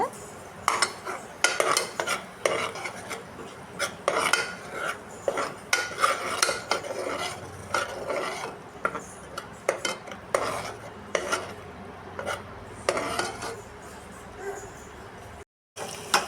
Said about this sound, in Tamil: பேஸ்ட்டு சேர்த்துட்டு அதோட பச்சை வாசம் போகிற வரைக்கும் வதக்கி விடலாம்